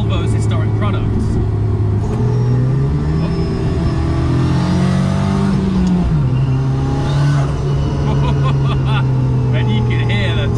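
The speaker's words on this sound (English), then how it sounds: "you can hear the turbo flutter as you lift off" A Volvo P1800 restomod built by Cyan, a racing-car maker, drones loudly under acceleration, its engine note shifting as the driver lifts off and the turbo flutters, while someone talks over it from inside the car.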